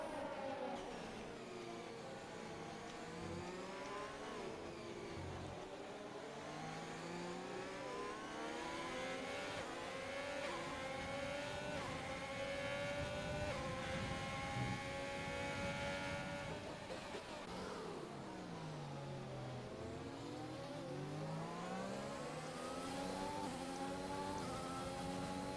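Formula 1 race car engines in a racing video game at the Chinese Grand Prix, high-pitched and sustained, rising and falling through gear changes as several cars scream past together at a steady, moderately loud level.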